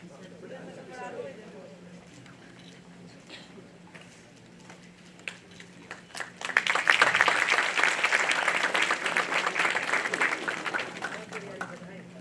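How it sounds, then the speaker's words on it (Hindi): Auditorium applause at a college annual prize distribution, rising suddenly midway into a sustained, fairly loud clapping that carries on to the end, with someone speaking beforehand. "तालियों से सभागार की ऊर्जा बनाए रखें।"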